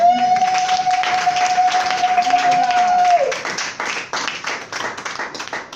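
A church congregation claps and applauds loudly and continuously, a dense wash of hands with a sustained sung or held tone over the first part that fades into ongoing clapping.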